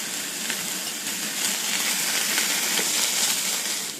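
Diced onion and green pepper browning together in a pan for a low carb chilli cheese dog bake, giving a steady, moderate sizzle with faint crackles and occasional stirring scrapes, no voices.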